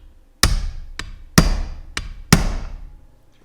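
Five sharp metallic hammer strikes on a cold chisel during carburetor work, close and loud, each ringing out briefly, with a lighter tap between the heavier blows.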